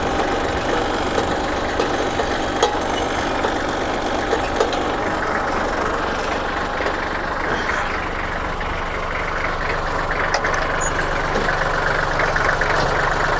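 A used Kubota or Iseki walking tractor engine idles steadily, a continuous mid-pitched chugging drone that stays even and close throughout, with no speech.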